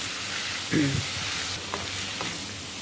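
Steady broadband sizzle of squid and broccoli frying in a pan, with a brief clatter of stirring early on and faint scraping afterward.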